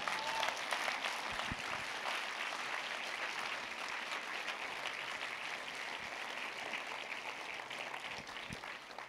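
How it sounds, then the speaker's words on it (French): Audience applause fills a closing-night gathering of a film festival, a dense, steady clapping from a large crowd that holds evenly throughout without pause. "Applaudissez-vous."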